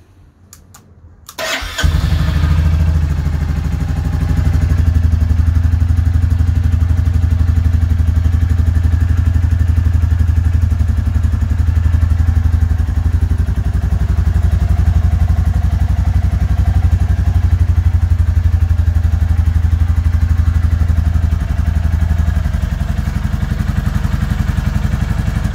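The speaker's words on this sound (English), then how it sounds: "one of the joys of having a classic 350 is that you can sit in your garage and listen to this" A Royal Enfield Classic 350 motorcycle starts up in a garage with a brief crank, then settles into a loud, close, steady thumping idle that runs uninterrupted for about twenty seconds.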